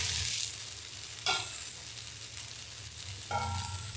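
Jowar flour dhirde roasting on an oiled pan, giving a steady quiet sizzle throughout with a couple of brief louder crackles and scrapes, and no talking.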